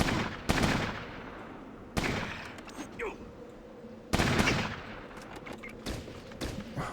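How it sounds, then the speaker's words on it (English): Gunfire in the Fallout Tactics: Brotherhood of Steel game: sharp, loud bursts of shots at the start, near two seconds and again past four seconds, with scattered fainter shots and crackle between them. "People are already shooting."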